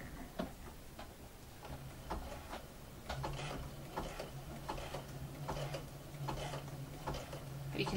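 A sewing machine zigzag-stitches a patch onto the elbow of a garment, heard as faint, quick, regular ticking stitches at close range over a quiet room.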